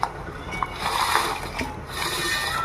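Chopped vegetables for Maggi noodles drop into a pot of hot water, making a few soft splashes and a quiet, ongoing watery slosh close by.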